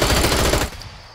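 Rapid automatic gunfire in the survival game Scum, a close, loud burst of fast repeated shots lasting about half a second before cutting off into quieter ambience.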